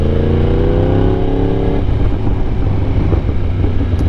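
A Yamaha YZF-R1 motorcycle engine revs loudly up close, its pitch climbing steadily before cutting back to a rough, rumbling throttle-off burble.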